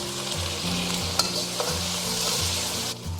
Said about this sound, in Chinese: 沿锅边喷一些料酒去腥